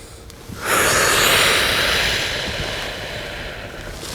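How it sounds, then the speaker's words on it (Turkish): Someone draws a long, controlled breath in through the nose during a headache-relief exercise, a loud close airy inhale that tapers off slowly. "Yine burnumuzdan nefes alacağız."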